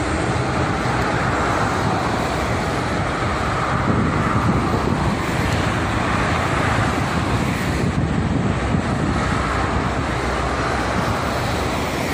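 Steady roar of heavy freight trucks and cars streaming past on the Jakarta-Cikampek toll road in the morning, a continuous dense wash of tire and engine noise with wind, no voices.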